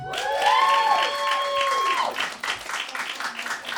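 A crowd cheers and claps loudly as a bright tone rings out and slides down, then the applause carries on steadily.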